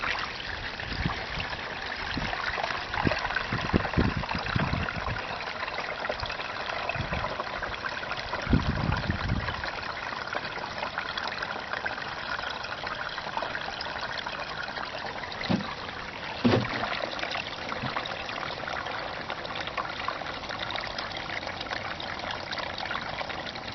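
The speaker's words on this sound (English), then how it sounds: "Flowing water, it's crazy." Water flows by gravity from an off-grid RV tank into a 6-gallon can, a steady close trickle and gurgle with a few knocks and bumps along the way.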